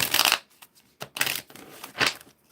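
Gemstone oracle cards shuffled by hand for a reading, in three distinct bursts of riffling and flicking with short pauses between them, close and fairly loud with no talking.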